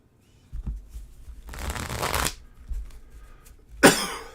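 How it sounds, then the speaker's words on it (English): Trail cards for a board game are shuffled in a few quick riffling bursts, crisp and close, with short pauses and a sharp final flutter. "So we have different trail cards, which I'm going to give one last good shuffle"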